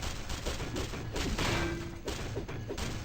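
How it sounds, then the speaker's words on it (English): Gunfire shattering auto turrets in X-Men Legends II: Rise of Apocalypse on GameCube, a busy run of shots, thuds and crashes beneath a steady layer of game noise. "This is just me destroying the auto turrets out of spite."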